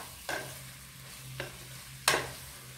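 Chicken pieces being sautéed and stirred in a pan for maqlooba, with three distinct scraping stir strokes over a low, steady background sizzle; the last stroke is the loudest, and no one speaks.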